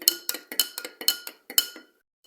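A spoon clinking against a bowl while stirring melting frozen fruit jelly, about ten quick, bright metallic taps in an uneven rhythm, close and clear, then quiet.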